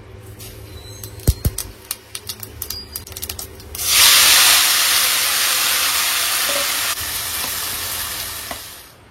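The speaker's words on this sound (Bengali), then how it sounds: "টমেটো চাটনি বানানোর জন্য শুকনো লঙ্কা ফোড়নে দিয়ে দিলাম, তারপর এখানে সর্ষে আর হচ্ছে মৌরি" Dried red chillies, mustard seeds and fennel dropped into hot oil for tomato chutney: a few sharp pops and crackles, then a sudden loud sustained sizzle that slowly tapers off, close up with no talk.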